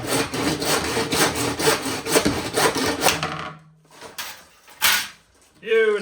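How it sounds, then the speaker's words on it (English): A hand saw cuts through pipe with steady, rhythmic back-and-forth strokes up close for about three seconds, followed by a few scraping rasps and a short voice at the end. "So, time to get the saw out,"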